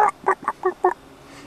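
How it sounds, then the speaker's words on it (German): Five short, nasal honking clucks from a fowl in quick succession, fairly close and loud, then quiet. "Da ist Huhn."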